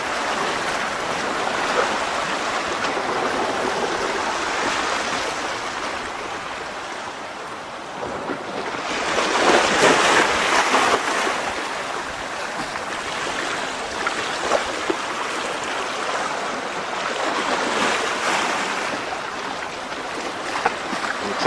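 Sea waves washing onto a rocky shore at La Herradura, a continuous broad rushing surge that swells in the middle and again near the end, loud and close, with no speech.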